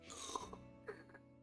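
A person imitates snoring with their voice, giving two short, quiet nasal grunting snorts spaced about half a second apart.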